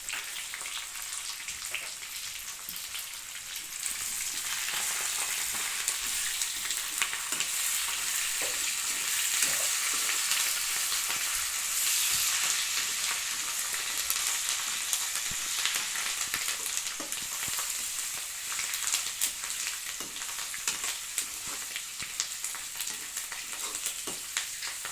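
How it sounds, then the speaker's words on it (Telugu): Curry leaves fry with turmeric in a pan, giving a steady, close hiss and crackle with small popping spatters that holds for the whole stretch, with no talk. "కరివేపాకు ఎగుతుందండి"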